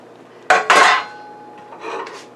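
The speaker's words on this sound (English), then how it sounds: "I put the oil in there and I take a towel and I move it around so I can oil all sides" A towel scrubs oil around the inside of a cooking pan in an air fryer oven, giving two loud close rubbing scrapes followed by a softer, fainter swipe, with no talking.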